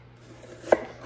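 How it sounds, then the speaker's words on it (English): A single sharp knife chop through red onion on a cutting board, close and crisp against a quiet room. "that's enough onions cut for right now"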